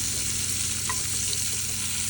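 Garlic fries outdoors in hot oil, giving a steady, even sizzle that holds at one level throughout, close up and alone with no voices.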